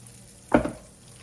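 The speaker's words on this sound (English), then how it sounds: "I'm gonna go ahead and dump in our shrimp." Room-temperature shrimp tumble into a hot baking dish of tomato and feta, giving a single brief wet plop and squelch over a low sizzling background.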